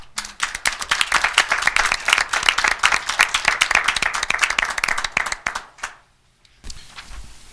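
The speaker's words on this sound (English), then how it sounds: "I want to give a round of applause to Annabella Giacobbe." An audience at a city council meeting applauds Annabella Giacobbe. Dense, steady clapping runs for about five and a half seconds, then drops off into near silence before a brief stir of room noise.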